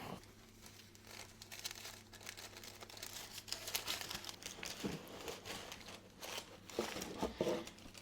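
Paper wrapping around a small Polène bag box is unfolded and pulled away, giving a continuous close crinkling and rustling with sharper crackles throughout, faint and soft overall.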